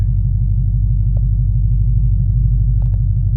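A base-model Ford Mustang GT idles in normal mode with a deep, steady, loud rumble and an even low pulse, with a couple of faint clicks over it and no speech.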